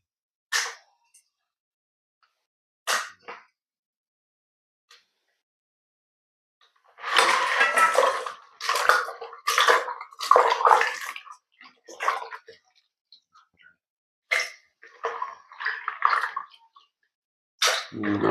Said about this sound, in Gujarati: હવે એના 3-4 પાણી ધોઈ દેવાની.